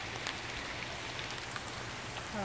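Rain falling outdoors, a steady, faint patter of drops hitting the ground and surfaces, continuous and even with a few slightly sharper taps.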